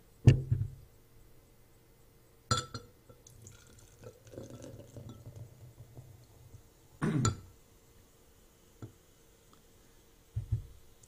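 Beer is poured into a glass in a quiet room, with a soft liquid fill between sharp glassy clinks as the bottle touches the rim, then a few isolated knocks.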